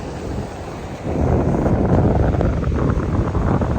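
Strong wind roars across the microphone on Holkham Beach with surf rumbling underneath, loud and constant, gusting harder after the first second.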